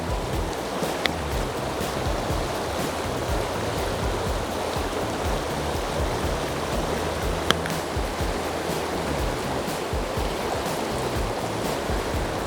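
Shallow pocket water of a trout stream rushes steadily and close by, a dense broadband wash with a few faint clicks, no one talking over it.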